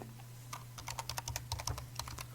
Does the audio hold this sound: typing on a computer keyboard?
yes